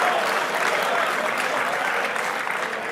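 Steady applause from an audience fills the whole stretch, dense and even throughout, played back from a video segment about the WINWING Cyber Taurus force-feedback product.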